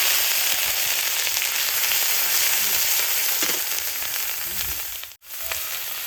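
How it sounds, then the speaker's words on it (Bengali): Garlic and onion paste hits hot oil in a pan, raising a loud, dense, continuous sizzle with faint stirring sounds, close up, before a brief sudden drop near the end. "গরম তেলের মধ্যে রসুন বাটা পেঁয়াজ বাটা"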